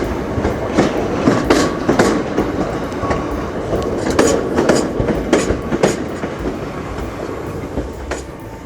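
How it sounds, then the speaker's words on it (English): A train runs past on the Hayes line near Bromley, rumbling with repeated clickety-clack wheel beats on the rails, loud and close at first and then easing off toward the end. "Oh, there's the train."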